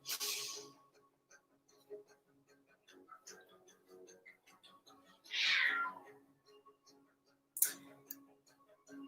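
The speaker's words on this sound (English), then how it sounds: "I think I hear a cat fight happening." Cats yowling and screeching at each other in short, harsh bursts, fairly distant, with quiet stretches and faint background noise between the outbursts.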